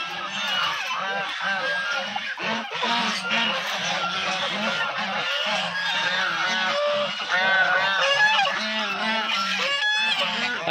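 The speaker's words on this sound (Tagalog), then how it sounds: "Daming pabo dito sa El Rancho." Many turkeys crowd together on a farm in San Francisco, Quezon, producing a continuous loud chorus of overlapping gobbles and honking calls that stays close and steady throughout.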